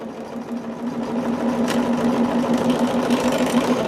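A sewing machine runs steadily and close by for the whole stretch, its motor a constant even hum with a fine rapid stitching pulse and no talking over it.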